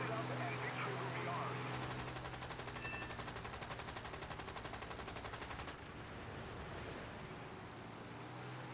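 Machine guns of a P-36C Hawk fighter in the War Thunder flight game fire in a sustained, rapid burst of about four seconds, loud over steady engine drone and wind.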